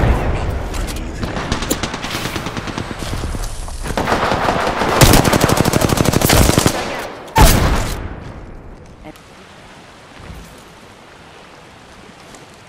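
Rapid automatic gunfire and sharp blasts in an Apex Legends firefight, loud and close, in dense bursts that break off and give way to quieter game ambience, with a voice briefly speaking over the action.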